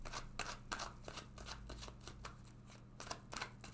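Tarot cards being shuffled and drawn by hand, a close, quiet series of quick riffling flicks and soft card slaps in an irregular rhythm.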